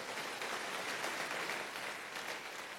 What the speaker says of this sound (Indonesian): Ayo tepuk tangannya yang paling meriah buat Tuhan kita.